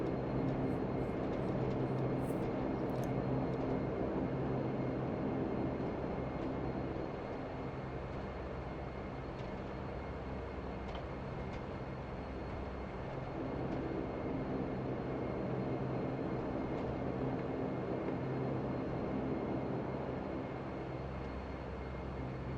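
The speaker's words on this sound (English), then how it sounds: "The Q400 tends to want to veer left upon takeoff, so we'll add 8 units of right rudder to keep us centered" A Dash-8 Q400 turboprop in Widerøe colours rolls for takeoff in a flight simulator over Norway, its engines giving a steady, loud, broad roar that holds unbroken throughout with no talking.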